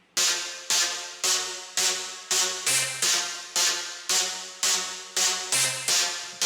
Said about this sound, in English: super harsh OTT type sounding detuned stab here